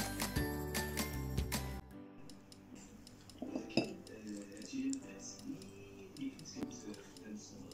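An express pizza is cut after about ten minutes in the oven, with a knife or cutter clinking and scraping against the plate or pan in short bursts under background music, followed by quieter clinks.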